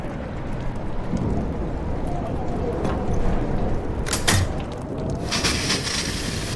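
Steady heavy rain pours through a thunderstorm in the Life is Strange video game, with a few sharp crackling thunder bursts near the middle and a brighter hissing layer toward the end.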